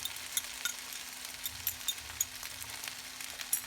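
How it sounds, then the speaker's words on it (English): Eggs frying in oil in a pan, a soft steady sizzle with small crackling pops, close but fairly quiet. "we're gonna just add some oil on the bottom and we're gonna put our eggs right in there"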